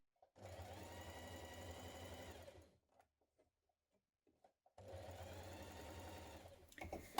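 A sewing machine understitches the facing of a Style Arc Sydney dress around the neckline, running in two steady, loud bursts separated by a short quiet pause with faint handling noises.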